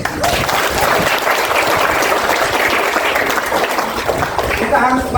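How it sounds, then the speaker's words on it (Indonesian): A large school-age crowd at a high school leadership camp in Wajo, Indonesia, bursts into dense, loud, continuous clapping that holds steady throughout, with cheering voices mixed in. "Tepuk tangan dulu."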